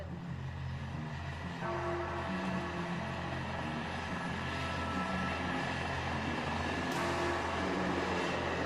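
Indian Air Force fighter jets flying in a V formation make a continuous, loud, droning aircraft roar with a low hum running underneath it, and the noise swells slightly partway through.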